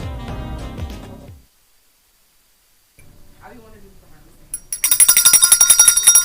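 A bell rings out in rapid, bright repeated strikes near the end, after a stretch of music, silence and faint sounds.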